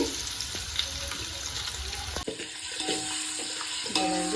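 Egg dum biryani ingredients frying on a low flame in a pan, a steady soft sizzle and bubbling with occasional stirring clinks, close and moderate in level with no talk.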